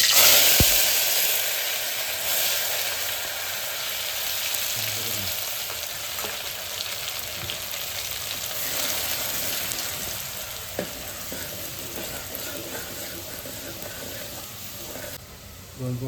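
Grated coconut tipped into a hot pan for a Kolhapuri tambda and pandhra rassa, frying with a loud steady sizzle and hiss that fades gradually, with occasional stirring scrapes.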